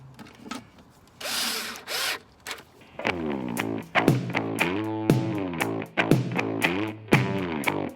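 A power tool whirs in repeated bursts of rising and falling pitch while driving down valve cover bolts on a 2002 Kia Optima during a gasket repair, loud and close.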